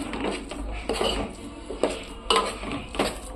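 A spoon clinks and scrapes in a pot while mixing a crushed cardamom filling, a few separate metallic knocks and stirring scrapes at close range, fairly quiet.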